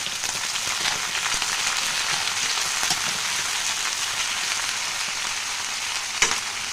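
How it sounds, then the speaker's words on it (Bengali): Vegetables and eggplant pieces frying in oil for shukto, a dense, steady hiss like rain on a surface, close and even, with one brief clatter near the end. "এর মধ্যে দিয়ে দেবো কয়েক টুকরো বেগুন এবার ভালো করে কিন্তু ভেজে নেবো"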